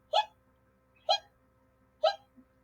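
A voice imitates hiccups for a children's Halloween skeleton story, three short, evenly spaced hics about a second apart, clear and close in a quiet room.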